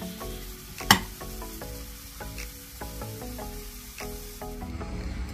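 Coriander is stirred into zunka, a Maharashtrian gram-flour dish, in a hot pan, giving a steady sizzle with repeated scraping strokes and one sharp clack early on.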